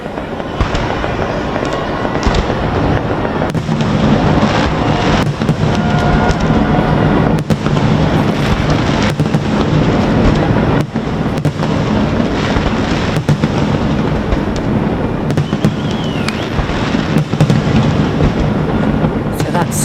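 New Year's fireworks over Kuala Lumpur's Petronas Towers booming and crackling continuously, dense loud bursts layered over one another with a faint murmur of crowd voices underneath.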